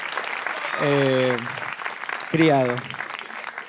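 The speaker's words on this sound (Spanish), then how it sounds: "un aplauso a tu papá y tu mamá" An audience at a stand-up comedy show gives brief applause under a voice, with a comedian talking over the clapping in Spanish.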